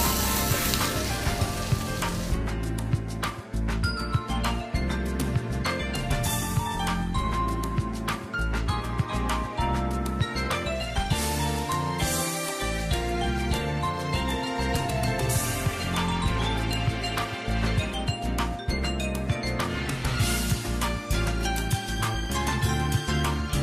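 Food frying in oil in a non-stick pan, a steady dense sizzle with crackling pops running loud and continuous throughout, close up.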